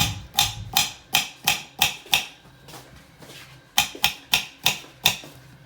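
Knife chopping baby corn on a board: a close, rhythmic run of sharp taps, then a brief pause and another quick series of cuts.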